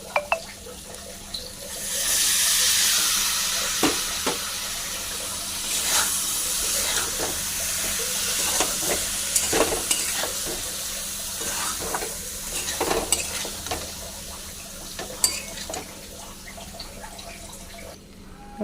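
Washed fried lentils are added to cooked spices in a pan and stirred, a loud watery hiss rising at first, then settling into a steady sizzle with repeated scraping and clinking from the spoon.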